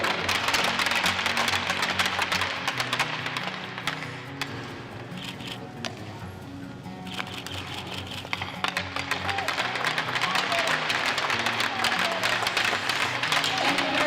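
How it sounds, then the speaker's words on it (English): Applause from a crowd at a sports event in Red Deer, with scattered clapping that dips in the middle and then builds into a denser, steadier round, while voices murmur underneath. "Please give a warm round of applause for Rhonda Wood."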